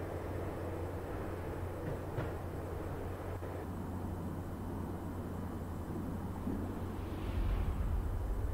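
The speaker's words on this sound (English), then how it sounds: "When the train he was riding slowed down, Gugnetti made his move." A train rolls along at night in the Max Payne video game. It makes a continuous low rumble of rails and wagons, with a swelling surge of noise near the end.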